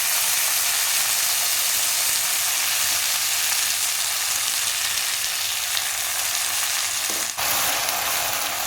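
Fenugreek greens and garlic sautéing in a pan over low gas give a steady, dense frying hiss that runs throughout without a break, with one brief stir or scrape near the end and no voices.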